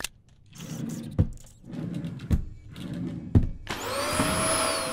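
Vacuum cleaner hum from the video game Kill It With Fire, a steady drone with several sharp thunks and a brighter whining layer toward the end, with no talking.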